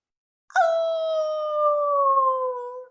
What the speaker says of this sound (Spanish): Escuchaba cómo los perros aullaban.